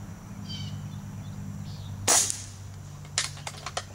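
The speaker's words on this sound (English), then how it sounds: "we'll try to shoot the thread off of there" An air rifle, an Mrod, fires one sharp crack at a bullseye target about halfway through, followed by a few quieter clicks and taps over a low steady hum.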